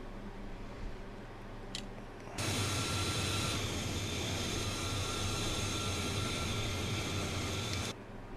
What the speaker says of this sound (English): It's a very cool aircraft indeed.